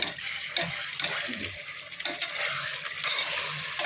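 Chicken with onion, tomato, yogurt and Kashmiri chilli powder sizzles and fries in a pan, a steady close hiss broken by a few stirring scrapes.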